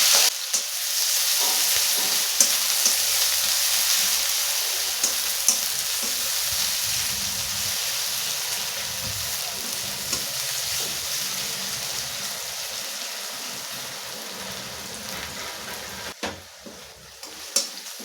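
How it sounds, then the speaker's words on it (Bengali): Chopped onions fry in hot oil tempered with cumin, cardamom, cloves and cinnamon, giving a loud, continuous close sizzle that holds steady throughout, with a few faint clicks near the end. "কিছুটা পেঁয়াজ আমি ভেজে দিচ্ছি"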